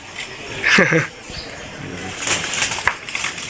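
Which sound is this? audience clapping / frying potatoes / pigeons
pigeons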